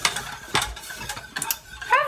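Close up, a whisk beats butter into simmering lemon meringue filling in a pot with quick, rhythmic clattering strokes over a short stretch.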